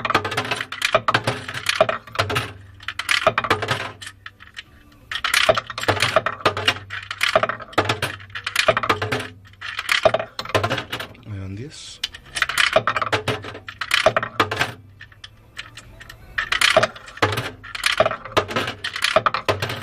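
Coins dropping one after another into an electronic coin-sorting box, giving quick clinking bursts with short pauses, alongside a voice talking throughout.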